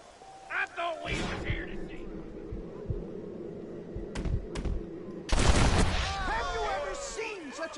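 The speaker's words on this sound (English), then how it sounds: "Let's just see how sharp you is with a moving target. Get ready to shoot that hat." Gunshots fired at a hat tossed into the air in a video game, a few sharp cracks followed by a louder burst of shots, mixed with game voices and character talk.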